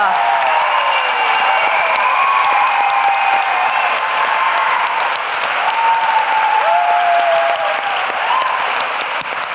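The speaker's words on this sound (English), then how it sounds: "please join me in giving a big round of applause to our speakers" Sustained audience applause after a panel talk at an Intelligence Squared event, steady and dense clapping from a full room, loud and continuous with no speech over it.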